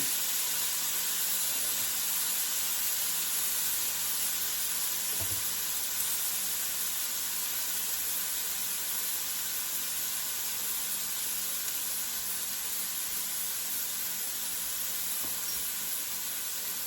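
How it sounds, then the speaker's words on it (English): Chopped onion and minced garlic frying in a hot pan for round steak stroganoff, a steady, even hiss of sizzling oil that carries on without a break. "So, the onion is going in. And the garlic is going to go in."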